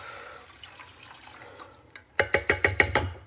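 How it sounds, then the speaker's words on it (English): Canned beef broth glugs out of the can into a pot in a quick run of loud, rhythmic pulses after a quieter stretch of faint kitchen noise. "I'm just going to start off with 1 can of the beef broth."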